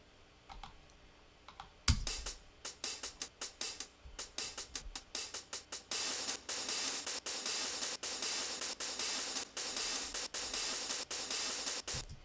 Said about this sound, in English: here it is with the hi-hat distortion coming in